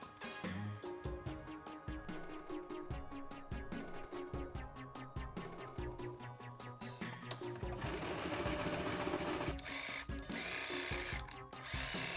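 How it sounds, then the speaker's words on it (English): Sewing machine stitching the pockets of a fur waistcoat, running in a steady rapid mechanical rhythm up close, with brief pauses and restarts. "the first thing I'm going to do is to sew the pockets separately with their fronts and their backs"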